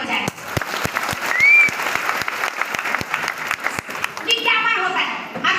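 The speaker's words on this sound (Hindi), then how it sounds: "एक बार जोरदार ताली हो जाए।" Loud audience clapping fills a Hindi celebration gathering for a sales team's success, a dense steady roar of many hands lasting several seconds, with a voice briefly audible near the end as the applause fades.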